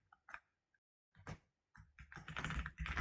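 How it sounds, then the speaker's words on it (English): Keystrokes on a computer keyboard while entering React code, a few sparse taps followed by a dense, loud burst of rapid typing, close and without talk. "So I will type return"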